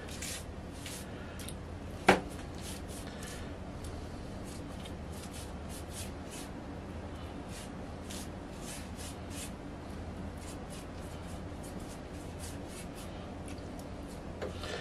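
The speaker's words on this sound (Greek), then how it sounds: "να το ανακατέψουμε λιγάκι" Sugar being stirred into a sesame mixture for lagana bread, giving a faint gritty scraping and rustling repeated in short regular strokes, with one sharp click near the start, no voices.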